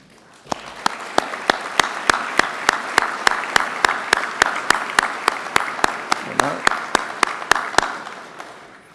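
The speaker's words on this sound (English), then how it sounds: "could our Certificate of Merit winners please stand for another round of applause?" At an awards luncheon for rail safety and security winners, a single nearby pair of hands claps in a steady, even rhythm, about three claps a second, for several seconds, over a faint murmur of a crowd.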